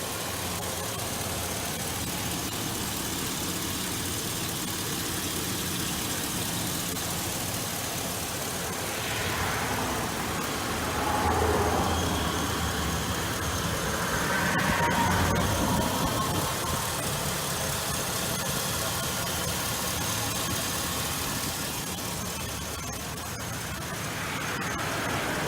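A 2002 Chevrolet Avalanche 1500 4x4 with a 5.3-liter V8 idles with its hood open, giving a steady, close, continuous engine rumble and hum that barely changes over the stretch, with no talking.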